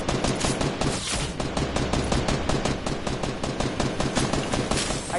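Dense, rapid gunfire in a video game, a loud, continuous volley of sharp shots rattling over several seconds with no voices.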